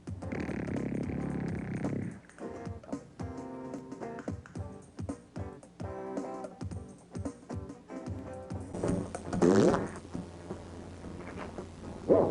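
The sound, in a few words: fart sound effect in a game show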